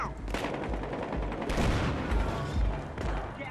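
Dense, loud bursts of rapid gunfire and explosions from a Battlefield video game firefight, continuous and close, with no talking.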